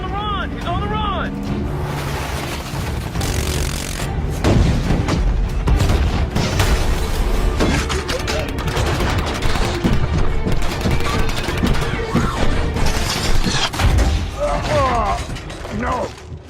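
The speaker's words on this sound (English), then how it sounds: "Fire! Missiles out, danger close." Stop-motion Transformers battle effects of missiles launching and exploding, a dense, continuous barrage of whooshes, booms and mechanical clatter, loud throughout with voices shouting over it.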